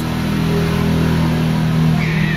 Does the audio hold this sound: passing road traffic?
yes